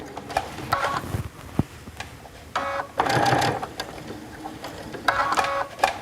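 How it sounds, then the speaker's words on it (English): A sewing machine with an open toe foot stitches a decorative hem band in several loud, close bursts of fast mechanical whirring, with short pauses between runs. "I'm going to be stitching down right next to it."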